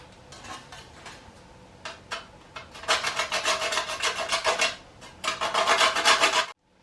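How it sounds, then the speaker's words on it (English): Nutmeg being grated by hand for Eccles cakes, close scraping rasps in quick rhythmic strokes, first sparse and light, then two louder sustained bursts. "grate the nutmeg"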